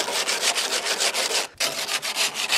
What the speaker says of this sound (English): we're just going to sand that down, get rid of the harshness of some of these burrs of metal